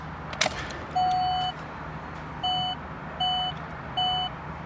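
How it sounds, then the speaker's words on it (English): Beeps from a Tesla-style touchscreen radio installed in a Chevy Cruze: four steady electronic tones, the first longer, then three shorter evenly spaced beeps over a low hum, with one brief clatter near the start. "We can still hear the beep nicely."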